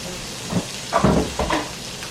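Pepper hitting hot butter in a pan for green beans with garlic and chiles, giving a few soft sizzling bursts over a steady faint hiss, each lasting a fraction of a second.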